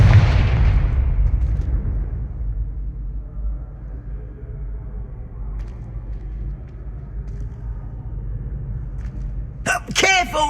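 Spell blasts and explosions in Hogwarts Legacy, a loud broadband burst opening the clip and decaying into a low rumble, then a sharp crackling flurry near the end.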